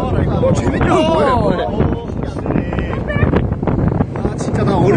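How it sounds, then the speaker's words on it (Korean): Strong wind blows across a boat heading to Haenam's Ttangkkeut village, a loud steady rush buffeting the microphone, while people talk and exclaim over it throughout. "여러분들 일단은 그 바람 소리가 좀 들릴 수도 있어요"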